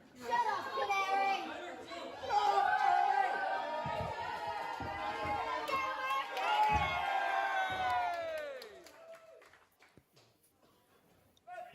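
A wrestling crowd cheers and shouts as the match gets underway, a loud mass of voices rising and swelling, with a commentator talking over the noise before it drops away near the end.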